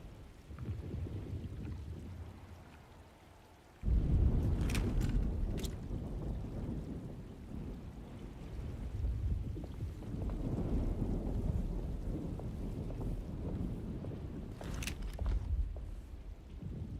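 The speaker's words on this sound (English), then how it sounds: "Looks like a storm's coming." Thunderstorm with steady rain in the video game Alone in the Dark, with a loud rumble of thunder breaking in partway through and sharp crackles of lightning, over a continuous wash of rainfall.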